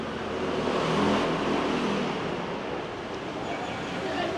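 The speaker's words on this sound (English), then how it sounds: "is a lot more scooters and people on these smaller bikes" Scooters and small motorbikes pass along a street in rural Taiwan near Jiufen and Houtong, a continuous engine drone with a gentle swell of revving nearby under steady traffic noise.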